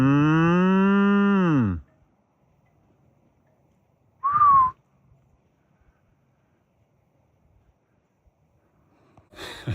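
A single cow gives a long, loud, close moo that falls in pitch, followed by a brief higher whistle-like call and near silence, with faint wind noise toward the end.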